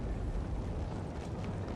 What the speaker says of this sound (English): So I'm very happy to have these 10 cannons here helping me